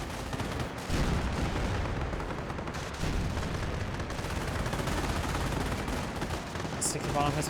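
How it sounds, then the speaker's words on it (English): An aircraft strafing run in the video game Company of Heroes, with a dense, sustained roar of rapid gunfire and heavy rumble that swells in waves, loud and continuous with no pauses. "Now it's time for strafing run. Here comes strafing run."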